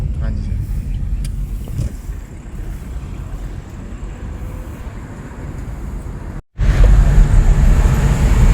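A cab rolls along a mountain road near Shimla, giving a steady engine and tire roar with wind, heard from inside. The sound cuts out briefly, then returns louder.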